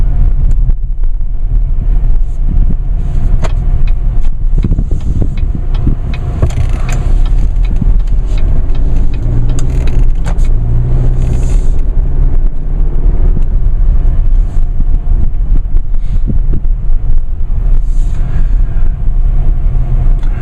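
A 2.8 liter Duramax diesel engine in a 2016 Chevrolet Colorado LT 4x4 idles and runs steadily throughout, a deep continuous rumble with some wind buffeting on the microphone, loud and close.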